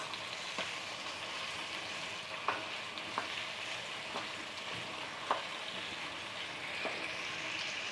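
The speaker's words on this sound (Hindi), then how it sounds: "हल्दी को, नमक को अच्छी तरह मिक्स होने दें। थोड़ी देर इसको अच्छी तरह भून लें।" Turmeric, salt and spices fry in a pan for potato curry, a steady close sizzle with occasional soft clicks of stirring, no voices.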